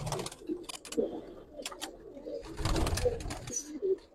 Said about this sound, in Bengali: একটা কিন্তু একটু সিলভার প্যাটার্নের কবুতর, ডান পাশেরটা যেটা ডাকতেছে